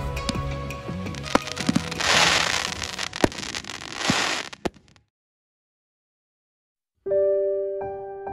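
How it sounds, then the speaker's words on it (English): Festival fireworks at the opening of a mountain-peak event in Leyte crackle and pop in rapid bursts with sharp booms, then silence, followed by a steady tone. "Our night ended with a spectacular fireworks display as part of the opening festivities of Bondari Peak."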